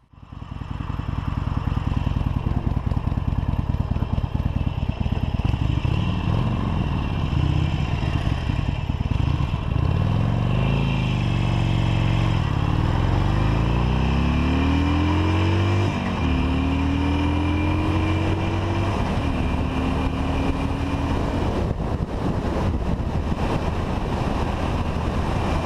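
A 2016 Harley-Davidson Iron 883 motorcycle accelerates hard from a standstill toward 100 km/h, its V-twin engine rising in pitch through several gear changes, loud and close, with wind rush building throughout.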